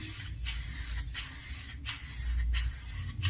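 A spray gun laying the next coat of paint on a repaired fairing or bumper, a loud continuous hiss broken by short pauses about every second as the passes repeat.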